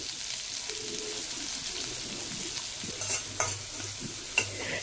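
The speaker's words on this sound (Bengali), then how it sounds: "তখন তাতে একটা পেঁয়াজ স্লাইস করে কেটে আমি তেলের মধ্যে গোল্ডেন ব্রাউন করে ভেজে নিচ্ছি।" Sliced onions frying until golden brown in hot oil after tempering spices crackle, giving a steady close sizzle with a few soft stirring clicks and no talking.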